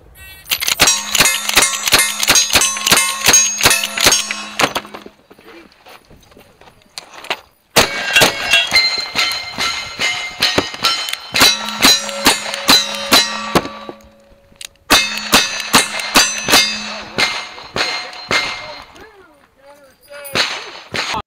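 Rifle shots ring off steel targets at the Comancheria Days 2023 shooting match. Three strings of rapid, sharp cracks and metallic clangs are separated by short pauses, loud and close.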